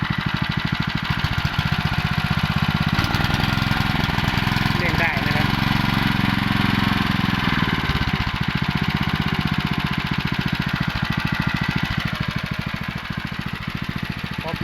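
A small water pump engine that had trouble starting now runs steadily after starting easily, a loud, close, rapid putter that keeps going throughout while someone talks over it.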